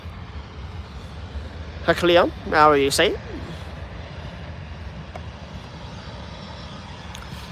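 Airbus A321 airliner engines roar steadily as a broad, distant background at Birmingham airport, while someone speaks briefly over it.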